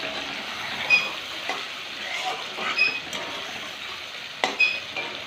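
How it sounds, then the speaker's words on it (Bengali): Chopped onion and green chili fry in a little oil in a pan, a soft steady sizzle broken by a few sharp stirring scrapes and clinks at intervals, quiet and close. "আর দিলাম পেঁয়াজ, একটা পেঁয়াজ কুচি আর লঙ্কা। এটাকে এখন ভালো করে ভেজে নিতে হবে।"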